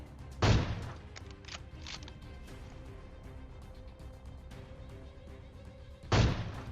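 Gunfire in the BGMI battle royale game: two sharp, loud shots about six seconds apart, each with a brief echoing tail, separated by quieter scattered game sounds and a low background hum.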